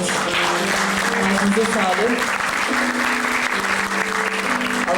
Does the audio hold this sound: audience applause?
yes